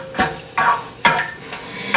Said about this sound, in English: And then I'm gonna go ahead and stir this in.